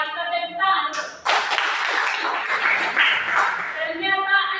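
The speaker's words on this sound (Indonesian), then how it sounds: "Ya, kita tepuk tangan." Children in a classroom clapping their hands in a short burst that starts after a brief voice, dense and close for about three seconds before fading back to a voice.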